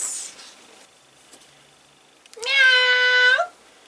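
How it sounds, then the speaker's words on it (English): A cat lets out a single clear, drawn-out meow, close and fairly loud, after a near-silent pause. ""Meow," he said as he sauntered onto the drawbridge"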